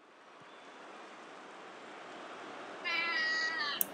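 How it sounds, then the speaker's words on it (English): A cat meows at close range, a brief tonal call near the end over a steady low background hiss, no talking. "There we go. There's the meow."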